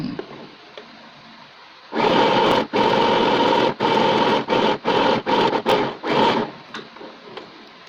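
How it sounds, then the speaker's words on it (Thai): A mini sewing machine runs a third gathering line for a ruffle, its motor whirring loudly in a string of bursts with short pauses between them, close up and with no talking. "ไปเย็บเส้นที่สามค่ะ ห่างกันประมาณ ครึ่งเซน"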